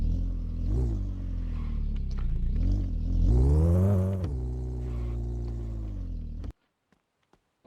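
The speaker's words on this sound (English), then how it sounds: "And you gotta love the sound of this engine." The engine of a 1968 Charger idles with a deep, throaty rumble, climbs through a couple of revs and then a stronger surge, settles back to idle, and cuts off abruptly, leaving silence.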